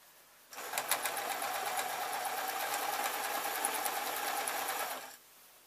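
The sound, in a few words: sewing machine stitching a padded dust cover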